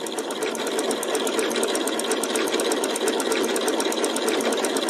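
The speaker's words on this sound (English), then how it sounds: "I'm going to tell the machine I'm starting a new stitch" A Janome sewing machine stitches forward at a fast, even rhythm, its rapid needle ticks loud, close and continuous with no talk.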